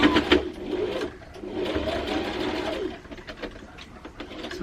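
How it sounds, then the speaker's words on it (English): A sewing machine stitches a simple wrap dress. Its motor whirs in steady bursts with short pauses between runs, close and fairly loud, and no one speaks. "put it on your sewing machine, take out your pins as you go, and let's begin sewing this dress"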